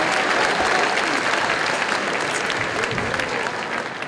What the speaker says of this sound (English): I think you ought to give yourselves a round of applause this morning for working so hard.